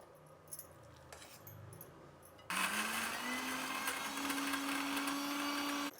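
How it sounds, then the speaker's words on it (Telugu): A kitchen mixer grinder blends cooled boiled lentils into a filling. Quiet handling sounds come first, then the motor kicks in abruptly with a loud, steady whirring roar. Its pitch climbs slightly as it runs on. "ఇప్పుడు మిక్సీ పట్టుకునేద్దాం"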